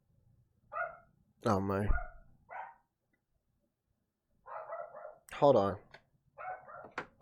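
A dog gives short clusters of nearby barks and yips, with gaps of silence between them and someone speaking briefly in between.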